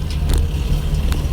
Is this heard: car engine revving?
yes